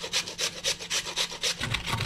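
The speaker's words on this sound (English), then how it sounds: "when you finish grating all the potatoes" Potatoes rasped against a grater for bramborák potato pancakes, a steady run of about ten rhythmic scraping strokes, close and fairly loud, with a few duller knocks toward the end and no talking.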